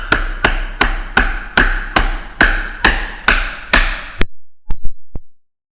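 A table saw dovetail joint in wood is tapped together with about ten loud, evenly spaced close knocks. After a short pause come two or three lighter taps, then silence.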